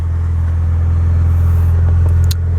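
A Honda Prelude engine idling, a loud, steady low rumble that stays even and close, with a few faint clicks near the end and no voices.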